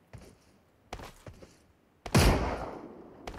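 Gunfire in the mobile battle-royale game BGMI: a few short sharp shots early, then a loud heavy burst of firing near the end, with quieter gaps between.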